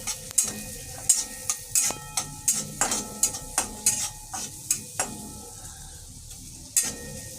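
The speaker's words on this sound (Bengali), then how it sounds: "এবার দেবো গার্লিক চপ, অনিয়ন চপ দিচ্ছি আলাদা করে" Chopped garlic and onion frying in a pan, a close sizzle overlaid by a rapid series of about a dozen sharp spatula scrapes and taps against the pan, easing off toward the end, with no voices.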